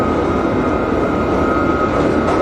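An R68A subway train in OpenBVE runs steadily on a Broadway Local route, giving a loud, continuous rumble with a constant hum and no voices.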